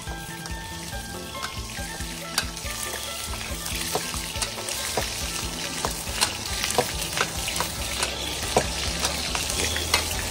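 Pork sizzles in a hot pan with a continuous, close frying crackle. Scattered sharper pops and occasional stirring clatter come through over the sizzle.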